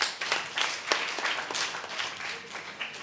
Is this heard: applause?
yes